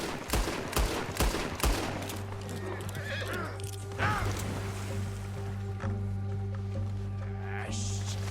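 Gunfire in Red Dead Redemption 2, several sharp shots cracking early on amid horse neighing and hoofbeats, followed by scattered distant shots, with some voices in the background.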